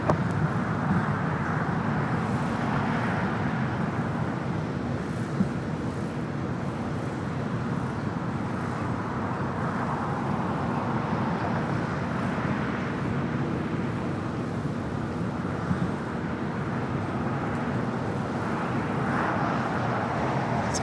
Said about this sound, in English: It's an 11-year-old 787-9 Dreamliner.